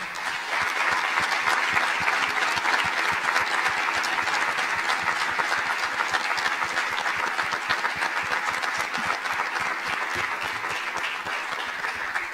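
An audience at a local cultural celebration gives sustained, dense applause, with many hands clapping steadily and loudly for the whole stretch without pause.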